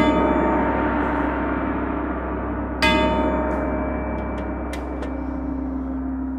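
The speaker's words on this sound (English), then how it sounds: "Little tam-tam." A shimmering metallic wash from a small orchestral tam-tam, struck again partway through, sustaining loudly with soft ticks over the top.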